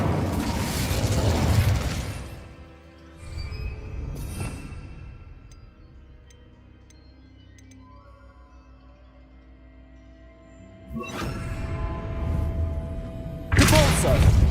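Incendio fire spell from Hogwarts Legacy, heard as several loud bursting whooshes with thuds at the start and end of the stretch, separated by a quieter mechanical lull.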